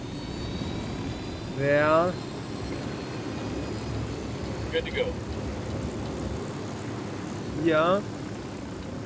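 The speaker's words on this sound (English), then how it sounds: "We're landing the helicopter." A helicopter sets down in the video game Ghost Recon Wildlands, its steady rotor and engine drone rumbling through the whole stretch while voices speak briefly over it.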